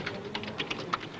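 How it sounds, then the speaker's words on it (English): A reporter types a news story straight into a computer, and quick, even key taps come in a steady patter from close by, with nobody speaking. "the reporter now types the story directly into a computer"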